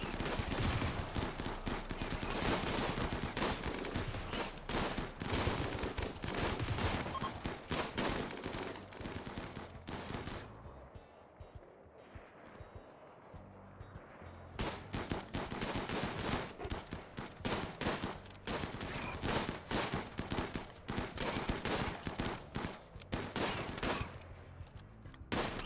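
Rapid, dense bursts of automatic gunfire rattle almost continuously from the video game Rimworld, loud and layered, easing into a brief lull before the volleys resume just as heavily.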